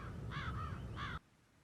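Two loud, close crow caws ring out in the Dartmoor level of the video game Hitman 3, the second following shortly after the first, then cutting to near silence.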